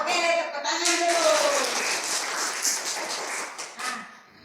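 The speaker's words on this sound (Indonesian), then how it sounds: "Oke, tepuk tangan dulu." A class of children clap their hands together in a burst of dense applause that fades out over a few seconds, with a voice briefly audible at the start.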